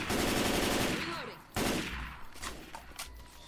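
Rapid gunfire rattles out in dense bursts while shooting infected in Left 4 Dead on expert realism, with a brief break near the middle and faint chatter from players underneath.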